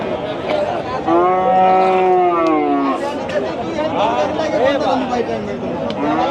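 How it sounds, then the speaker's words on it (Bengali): Australian cross-breed cattle at a busy cattle market low in loud, drawn-out moos near the start, followed by more lowing mixed with nearby voices and crowd chatter. "এই সাইডে কিন্তু আবার ম্যাক্সিমাম অস্ট্রেলিয়ান গরু হ্যাঁ ক্রস গরুগুলো"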